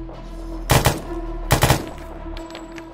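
Gunfire in Arma 3 during a zombie attack in New York City: two loud, close bursts of rapid automatic shots about a second apart, each three or four rounds, over a low game hum.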